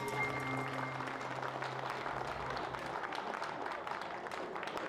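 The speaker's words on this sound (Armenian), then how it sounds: "մեր հարսիկին շատ բարձր ծափարում ենք" An audience at an Armenian wedding claps steadily and densely for the bride, a continuous wash of applause with faint crowd murmur underneath.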